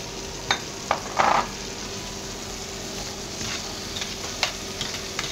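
Peppers fry in a seafood paella pan under a steady low sizzle, broken by a few brief utensil scrapes and taps as they are stirred, moderate and close.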